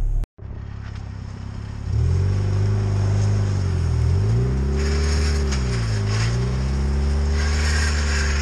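A car engine idles after a brief cut, then runs louder with rising and falling rev sweeps and a steady low drone, close and alone, on the car's first outing on the road in about two years.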